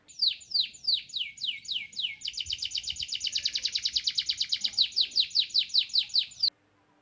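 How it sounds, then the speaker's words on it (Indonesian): A bird calls in a rapid series of bright, close chirps, first in slower groups and then in a fast even trill, loud and alone before stopping abruptly. "Ya, itu tadi suara burung."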